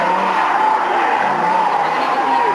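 A 600-horsepower Dodge Viper SRT does a smoky burnout, its tires squealing loudly and continuously with a steady high-pitched screech over the roaring engine, close and sustained throughout.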